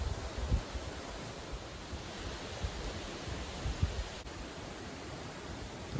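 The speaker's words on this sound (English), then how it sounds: "The wind is getting pretty wild back here" Strong wild wind gusts across an outdoor backyard, a steady broadband roar with rustling and buffeting on the microphone, loud and continuous for the whole stretch with no talking.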